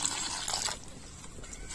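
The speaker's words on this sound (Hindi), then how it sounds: "पानी डाल दिए हैं" Water is poured into a pan of fried bami fish masala, a brief bright splashing gush that cuts off quickly, followed by faint liquid sizzling and sloshing, close and without talk.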